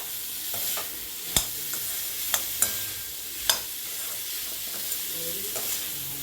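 Boiled radish with turmeric powder being stirred and fried in a pan for radish masala poriyal, a soft sizzle underneath with several sharp clicks and scrapes of a spoon against the pan.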